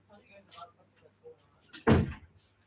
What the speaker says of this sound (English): I'm going to close that door, because I hear the TV.